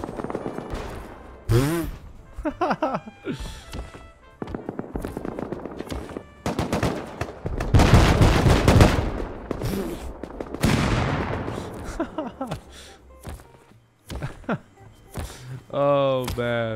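Automated turrets firing in Rust, loud bursts of machine-gun fire with repeated shots and impacts across the battle, heard under frequent excited talk.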